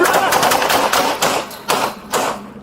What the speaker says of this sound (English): Shots fired. Shots fired. Officer needs help.